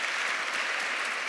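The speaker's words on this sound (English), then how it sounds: "ladies and gentlemen, I would like you to clap at these men to thank them for coming and spending their time with us today" Applause from a conference audience, a steady, close wash of many hands clapping briskly together at an even, loud level with no voices on top.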